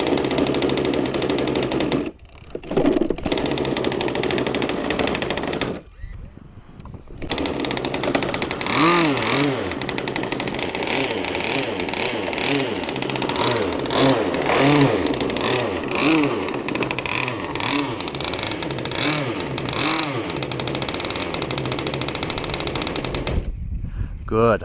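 A small engine runs rough and rich after its carburetor idle is set, its loud, rapid popping exhaust and revving carrying on almost continuously. It briefly cuts out twice near the start and stops at the end.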